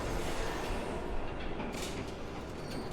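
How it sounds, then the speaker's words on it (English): A monorail train rumbles past in an Xbox One video game, a broad, continuous, fairly loud roar with a slight swell midway and no talking. "There's a train coming."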